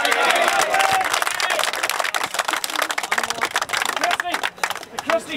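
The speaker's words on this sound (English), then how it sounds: "Round of applause for Tom." Pub crowd applauding, a dense round of clapping with some chatter that carries on steadily and then thins into scattered claps near the end.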